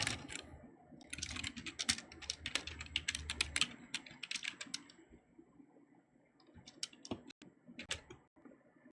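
Fingers typing on a computer keyboard, bursts of quick close clicks and key taps with short pauses between, quiet room with no talking.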